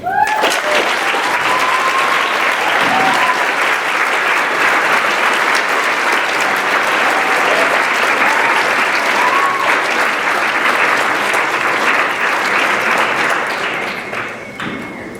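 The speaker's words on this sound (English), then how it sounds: "Please give some applause for Samuel Plesner." Loud, sustained applause from a dinner audience at a graduation awards ceremony, dense clapping holding steady for about fourteen seconds before tapering off, with a few cheers early on.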